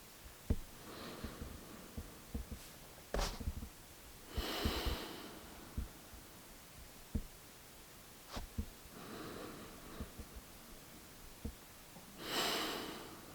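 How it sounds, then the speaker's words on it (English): Slow, deep breaths drawn in and let out, several soft airy inhales and exhales spaced across a quiet stretch with faint thumps between them, close and unaccompanied by talk. "Going to actually take a couple of nice breaths."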